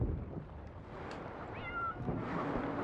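A cat meows in the pirate video game Sea of Thieves, a single drawn-out rising meow heard faintly against wind and sea ambience, with no talking over it.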